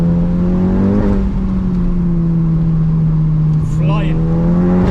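A Stage 3 tuned VW GTI pulling hard along a back road, a loud, steady droning engine note heard from inside the car, holding near-constant pitch with a brief dip and recovery as it climbs.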